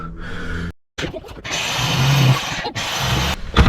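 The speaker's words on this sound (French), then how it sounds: "et maintenant, on va découper ces petites charnières là, pour qu'elles soient à ras" A power tool cutting small metal hinges flush, for a roof-bar mount on a 4x4, whines in loud sustained bursts with a short silent pause early on.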